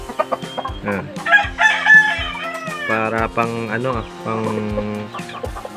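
An Aseel breed hen clucks in a rhythmic series of throaty calls, with a rooster crowing amid the flock and someone speaking briefly over the birds.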